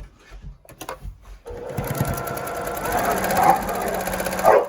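A home sewing machine stitches a quarter-inch seam on a quilted pinwheel block, its rapid steady whirring running close and loud after a few short bumps, with a dog faintly barking in the background.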